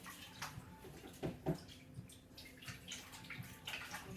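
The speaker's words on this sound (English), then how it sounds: "Just giving my hands a little quick rinse." Hands get a quick rinse under a running tap: soft, faint splashing and water patter with a couple of brief louder splashes, no talking.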